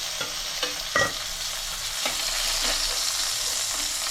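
A steady sizzle of crab pieces frying in oil, with occasional scrapes and clinks of a utensil stirring and lifting them.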